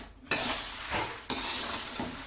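Spices roasting with asafoetida in a pan for curry-leaf idli podi, stirred with a spoon: a soft dry sizzle and two sharp scraping strokes against the metal, close and alone.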